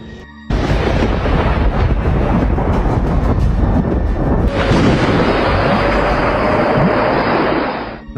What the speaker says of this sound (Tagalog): Nakakatakot at nakakapangilabot talaga ang makakita at makarinig ng kidlat, lalo na kung ito ay tumatama sa kagubatan.